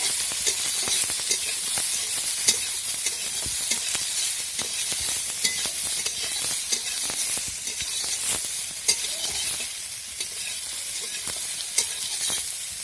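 Soybean chunks frying in hot oil, a steady close sizzle and hiss lasting throughout, broken by frequent clicks and scrapes of stirring, with no voices.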